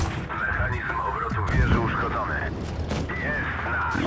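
Tank cannon fire in World of Tanks Blitz, a 50TP prototype in battle: booming shots with rumbling battle noise underneath and a wavering tonal whine running through, fairly loud and close.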